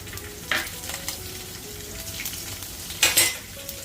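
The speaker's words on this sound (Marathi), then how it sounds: "डाळ हलकीशी तळून घ्यायची आहे" Lentils (dal) frying lightly in oil in a pan over medium heat, a soft steady sizzle with a few sharper scraping stirs and a louder stirring burst near the end.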